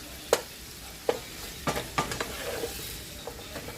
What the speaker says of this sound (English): But I'm gonna cook down my mirepoix.